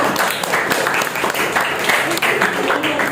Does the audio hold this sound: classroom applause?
yes